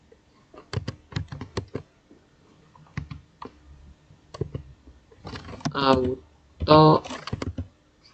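Computer keys clatter in quick bursts and single presses while the network interfaces file is edited in nano in a Linux terminal, close-up, followed by someone speaking briefly.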